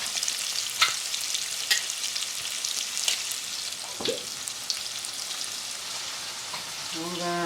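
Bell pepper, scotch bonnet, garlic and tomato fry in a pan with a steady, close sizzle and crackle. Occasional stirring clicks come through, and the hiss swells slightly toward the end.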